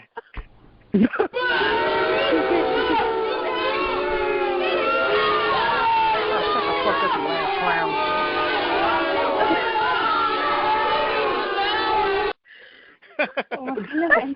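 A studio audience cheering and shouting for a performer, a sustained loud roar of many whooping voices that stops abruptly, followed by scattered talk.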